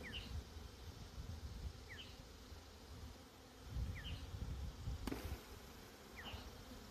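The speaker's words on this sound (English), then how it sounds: "we're going to shake the bees into a receptacle" Steady, dense buzzing of honey bees being shaken from a hive frame fills the background, with a few brief higher chirps and a sharp click partway through.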